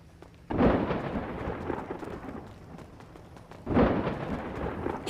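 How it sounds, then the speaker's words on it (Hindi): Two loud cracks of thunder in Grand Theft Auto V burst out a few seconds apart, each followed by a rolling rumble that slowly fades. "बिजली बहुत कड़क रही है"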